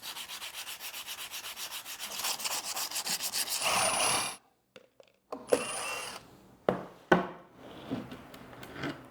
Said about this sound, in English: We're just gonna grind down any imperfections on the edges there